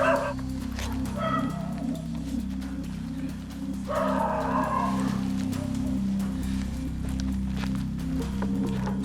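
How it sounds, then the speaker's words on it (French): A neighbours' dog barks in a garden, several barks and yips at moderate distance over a low constant hum, with footsteps and movement nearby. "le chien des voisins remarque leur présence"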